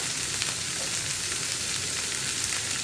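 Anchovy roast with curry leaves fries in a pan, giving a continuous crackling sizzle that is close and steady, with the soft scrape of stirring and no voices.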